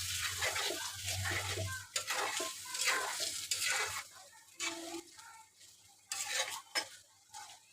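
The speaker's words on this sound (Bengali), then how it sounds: "যেহেতু ভুঁড়ির তরকারি বেশ কিছুক্ষণ কষাই নিতে হবে, ভাজা ভাজা করে নেব ভুঁড়িটা।" Beef tripe with green chilies is stirred and fried in a pan, giving repeated scraping stirs over a soft sizzle, with quieter gaps between bursts of spoon movement.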